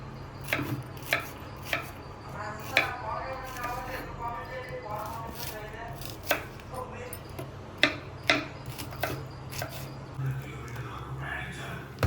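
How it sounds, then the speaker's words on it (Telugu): Onions being chopped on a board at home while snacks are prepared, with a steady run of sharp knife taps recurring through the clip over a low background hum and some soft voices. "ఈ లోపల ఉల్లిపాయలు కట్ చేసుకుంటాను నేను"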